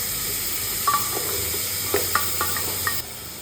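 Grated ginger and garlic fry lightly in a pan with a soft sizzle and hiss, broken by a handful of sharp spatula taps and scrapes against the pan, and no talking.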